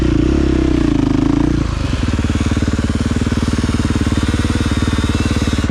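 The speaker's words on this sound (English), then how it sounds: "if it's spinning and then it won't go, let off and start giving it gas easy and try to push it with your feet and rock it" A KTM SX-E5 electric dirt bike spins its rear wheel in mud with a steady, loud, rapidly pulsing whir, a deeper surge in the first second and a half before settling into an even churning drone with no talk.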